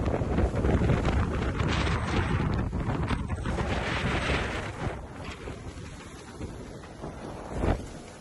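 Wind gusts across the deck of a racing sailboat at sea during the 2024 Vendée Globe off Rio, a steady, loud broadband rush buffeting the microphone throughout with one brief louder gust near the end and no voices.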